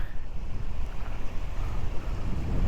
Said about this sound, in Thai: เหมือนทะเลเลย มีคลื่นด้วย